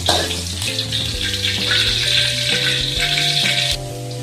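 Food fries in hot oil in a pan, a loud, dense, close sizzle that holds steady, then eases slightly near the end.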